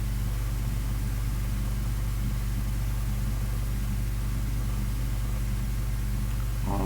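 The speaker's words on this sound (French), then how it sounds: "On va arrêter le moteur." A conveyor system motor runs continuously with a steady, loud low hum and droning mechanical tone, unchanging for the whole stretch, with a faint brief rise right at the end and no talking.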